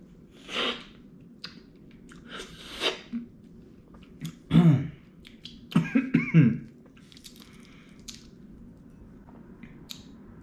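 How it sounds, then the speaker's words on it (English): A fertilized duck egg (balut) dressed with vinegar being slurped and eaten up close, with separate wet slurps, sucks and chewing noises in short bursts broken by quiet pauses. "you're gonna slurp this. You're gonna slurp this out."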